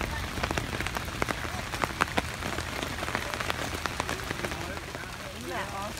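Steady rain patters on a surface at a campsite, with scattered louder drops and a faint voice now and then underneath.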